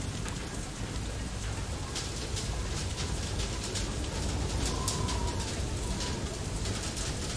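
Steady rain hissing in the game Far: Lone Sail, a dense constant downpour with scattered patters and faint higher ticks over a low rumble, no talk.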